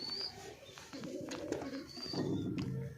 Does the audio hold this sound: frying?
no